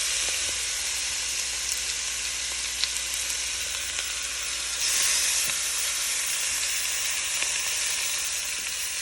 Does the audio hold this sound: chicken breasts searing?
yes